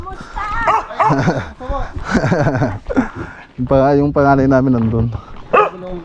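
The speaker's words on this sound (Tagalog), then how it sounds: "Oh. Yung aso ko." Dogs bark and yip in short bursts close by, mixed in with people talking over them.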